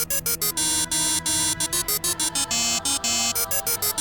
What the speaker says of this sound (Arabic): رحت في النوم وصحيت على رن التليفون